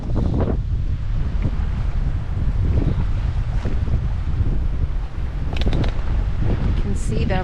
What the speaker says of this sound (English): the wind and waves is enough to be splashing the water up onto the shore